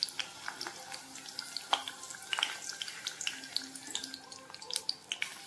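Chopped onions and green chillies fry in hot oil on a medium flame, giving a steady soft sizzle with scattered crackles and pops close by.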